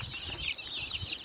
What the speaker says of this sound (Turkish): Civcivlerimiz